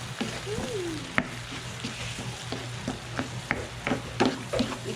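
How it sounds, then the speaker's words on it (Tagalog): Garlic and onion frying in a pan and being stirred, with a steady soft sizzle under repeated scraping and tapping of the utensil against the pan, close up and without talk. "then we put our garlic, any garlic, then mix garlic and onion"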